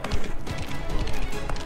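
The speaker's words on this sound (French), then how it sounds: "On va faire cabrer le cheval." Horse galloping in the video game Mafia: The Old Country, a dense, continuous run of clip-clop hoofbeats close by with a busy game soundscape underneath.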